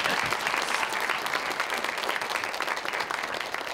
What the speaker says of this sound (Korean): 용감한 박수였습니다.